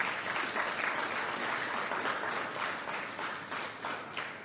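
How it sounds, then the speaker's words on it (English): Audience applause at the Namibia Annual Sport Expo, a sustained burst of many hands clapping at once, dense and steady, fairly close and heard alone without talk. "Let's give him a round of applause"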